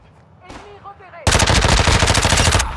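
Automatic gunfire in the video game Modern Warfare 2: after a moment of quieter game sound with a brief voice, a loud, continuous rapid-fire burst runs for about a second and a half, then cuts off.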